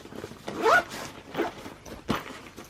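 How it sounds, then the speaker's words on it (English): An ICU nurse's work bag is zipped closed in several quick, close zipper pulls, each a short rasping sweep, with brief pauses between them. "So let's zip this up."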